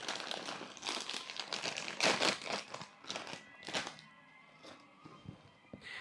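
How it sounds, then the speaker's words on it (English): A bag of crisps is crinkled and rustled open close by, with bursts of crackling and crumpling plastic that come and go, then settle into quieter handling. "At this point, I think I'm going to open a bag of crisps."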